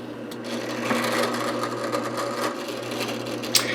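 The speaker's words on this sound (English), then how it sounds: "even though I'm using a brad point drill bit" Drilling holes in a guitar neck with a brad point bit into a sacrificial backer board, a continuous steady whirring drill tone with faint grinding, close and alone.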